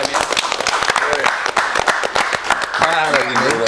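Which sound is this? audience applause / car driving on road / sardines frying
audience applause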